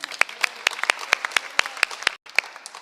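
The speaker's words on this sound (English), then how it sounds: "So I want to also give them a round of applause," A small crowd at a Detroit community business celebration claps, with sharp individual hand claps close by and scattered, uneven applause around them.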